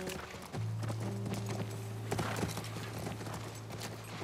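Horse hooves clip-clopping in the video game The Last of Us Part 1, a rapid steady gallop of hoof beats over a droning in-game background hum, fairly near.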